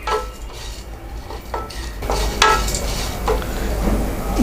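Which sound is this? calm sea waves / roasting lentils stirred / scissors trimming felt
roasting lentils stirred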